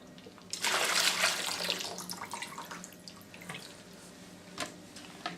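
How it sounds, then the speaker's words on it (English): Water poured out of a reverse osmosis filter canister, a loud splashing gush that tapers into uneven trickles and drips, close by and with no talking. "now you're going to empty out the water from the canister."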